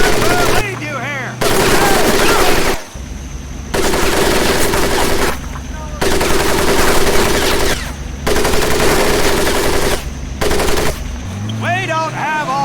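Sustained machine gun fire in the World War II game Medal of Honor: Pacific Assault rattles in long bursts of a few seconds each, separated by short gaps, with a voice shouting over the din.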